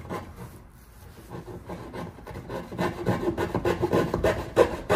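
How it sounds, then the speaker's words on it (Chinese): A hand saw cutting wood while building a portable 240 by 120 cm table or bed frame, rasping back-and-forth strokes that start soft and grow louder and steadier toward the end, close by with no talk. "然后拿锯子"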